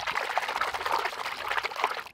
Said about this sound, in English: let's mix up some soapy water, pour it down the hole, and then start digging